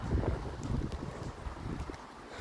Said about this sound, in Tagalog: Malamig, mahangin.